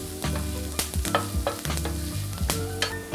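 Garlic, fresh thyme, smoked paprika and cayenne sizzle steadily in a hot pan for a crab dip, with several scraping stirs of a utensil against the pan cutting through the frying.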